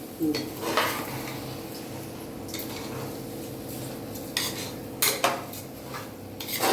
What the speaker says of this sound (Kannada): ಒಂದು ತಿರುಗಿಸ್ಬೇಕು. ಲೈಟಾಗಿ ಮೆತ್ತಗೆ.